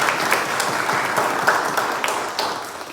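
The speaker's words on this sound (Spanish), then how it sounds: "te damos un aplauso también, caballero." Church congregants applaud a fellow member during a service, a loud, lively round of many hands with sharper individual claps standing out, continuing steadily before easing slightly at the end.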